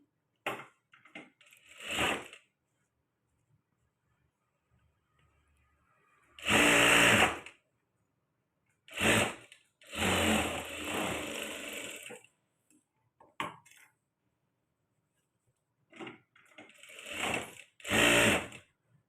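Sewing machine stitches a blouse in several short, loud bursts separated by silent pauses, each run lasting about one to two seconds, close by with no talking.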